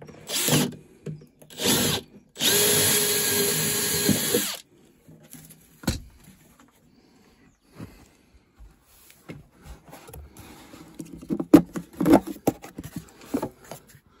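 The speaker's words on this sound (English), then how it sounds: "A bit of hole saw action. We'll just chuck that through the lid." A hole saw cuts a 25mm hole through a camper sink lid: short bursts of drilling, then a sustained two-second run, followed by faint handling clatter and taps.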